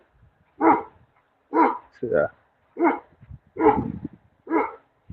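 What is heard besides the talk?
big dog barking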